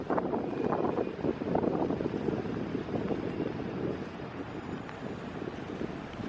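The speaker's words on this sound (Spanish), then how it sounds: "Corría harto viento y eso mismo dejaba ver la bandera flameando" Strong wind gusts buffet the microphone at Plaza de Mayo in Buenos Aires, a continuous low rumbling roar that rises and falls, with no one talking.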